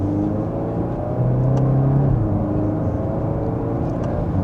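A 2026 Volkswagen Golf R accelerates in manual mode in second gear, heard from inside the cabin as a loud, steady engine drone and rumble that rises slightly in pitch, with no talking.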